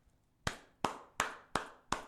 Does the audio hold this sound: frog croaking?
no